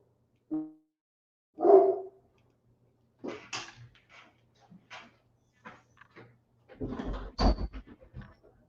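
A loud pet dog barks indoors during a live talk show broadcast, with sharp, separate bursts spread across the clip and a longer cluster of barks near the end.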